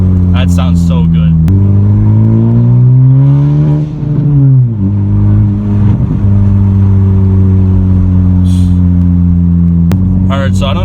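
A modified turbocharged 2018 Honda Civic Si drones loudly from close by, its engine note climbing and dipping through gear pulls, with brief voices at the start and end.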